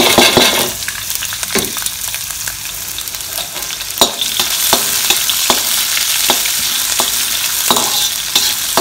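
Onions for potato masala fry in hot oil with a loud, close, continuous sizzle. Sharp spatula scrapes and taps against the pan repeat every second or so, and nobody speaks.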